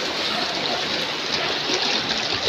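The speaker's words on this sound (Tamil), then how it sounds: "பைக்கெலாம் உள்ள மறைஞ்சு போகிற அளவுக்கு தண்ணி போயிட்டுருக்கு" Floodwater from Cyclone Michaung rushes through a street in Velachery, Chennai, deep enough to swallow parked bikes, a loud, steady broadband wash of flowing water that fills the whole scene.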